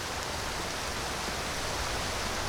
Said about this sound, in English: One thing I'm not a huge fan of with Nolvus, this rain, it is so dense.